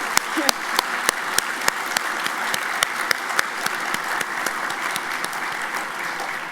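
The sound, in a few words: audience applause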